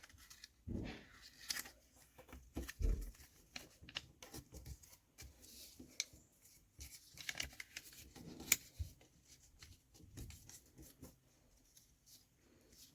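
Paper being folded and creased for a valentine's craft: sporadic soft rustles, scrapes and crinkles at close range, quiet and irregular, with no speech.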